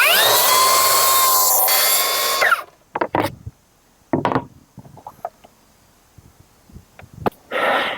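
Power saw making rough cuts in wood for a budget van build, one loud, close, steady cutting whine lasting a couple of seconds, then quieter knocks and handling clatter and a brief restart near the end.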